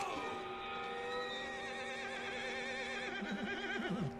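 A horse in the video game Red Dead Redemption 2 lets out a long, wavering neigh with a trilling, shaky finish, close and clear over a low game background.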